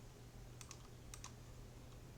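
A few quiet keystrokes on a computer keyboard, two quick pairs of clicks close by against a soft background hum.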